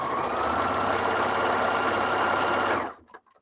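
A loud, steady electronic beep drones for nearly three seconds, then cuts off abruptly into quiet.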